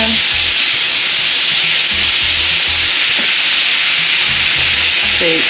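Beef burrito filling is stirred in a hot pan, giving a steady loud sizzle and hiss with soft scraping and stirring knocks throughout, no voices.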